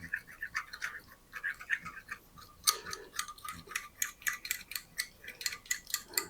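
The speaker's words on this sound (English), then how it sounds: "we're gonna use a little baby fork from when my kids were little, and we're gonna whisk it up like a little thing of scrambled eggs" A small fork whisks slaw dressing in a bowl, with quick, light, rhythmic clicking taps that grow faster and sharper partway through, close and quiet.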